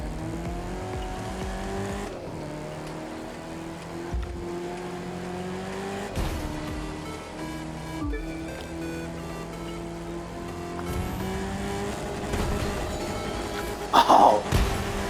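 A monster truck engine drones steadily while driving in The Crew 2 racing game, a loud continuous roar with shifting pitch and brief bumps and squeals near the end.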